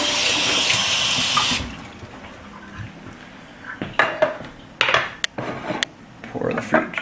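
Tap water streams steadily onto the strainer of an Omega VRT400 vertical slow juicer for a moment, then stops, followed by sporadic clinks and knocks of the plastic parts in the sink.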